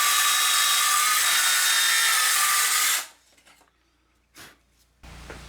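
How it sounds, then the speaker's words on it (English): Makita 18V 150mm brushless cordless metal cutter with a 1.5mm kerf slices a slot into a metal table frame, a loud, steady high-pitched cutting roar for three seconds that then stops abruptly, leaving brief faint handling noises. "I'm cutting it with the Makita 18V 150mm brushless cordless metal cutter"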